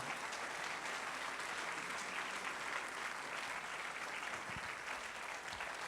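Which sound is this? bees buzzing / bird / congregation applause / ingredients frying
congregation applause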